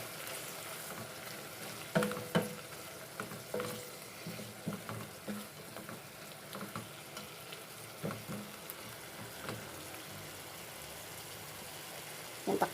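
Carrots sizzling in Star margarine in a pan, a close, steady frying hiss punctuated by scraping stirs and soft clatters, with no talking.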